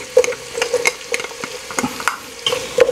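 Ginger and red onion frying in a pan, a soft sizzle broken by repeated scraping and stirring strokes of a utensil, close and uneven in rhythm with several sharp clinks.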